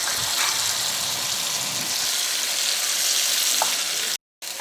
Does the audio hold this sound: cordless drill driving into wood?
no